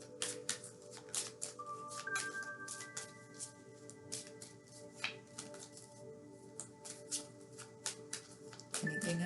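Tarot cards being shuffled and handled by hand, a run of soft, close riffling taps and slides in uneven bursts over several seconds, with faint tonal background sound.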